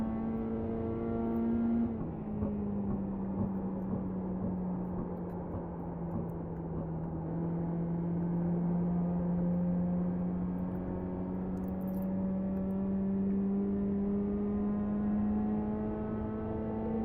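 Mini stock race car engine at Milwaukee Mile in a VR racing game, a steady loud drone that dips briefly near the start and then holds a long sustained whine, alone with no talk.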